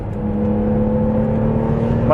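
Warmed-up BMW M3 car engine holds a steady, loud droning tone close by as it accelerates while overtaking, rising in pitch sharply at the end.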